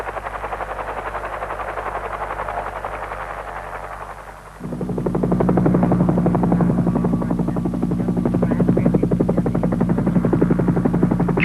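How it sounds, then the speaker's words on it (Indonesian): A helicopter supporting tunnel construction in the mountains of Papua drones with a steady, loud rotor beat that grows fuller and closer midway and continues throughout, with no talk. "Konstruksi kedua terowongan seluruhnya ditunjang helikopter."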